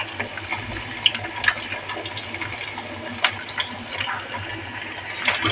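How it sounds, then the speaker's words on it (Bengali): Ridge gourd frying in a pan, a close, continuous sizzle and spatter with scattered sharp crackles and pops. "এই দেখো এবারে আমি ঝিঙ্গাগুলি দিয়ে একটু ভাজবো।"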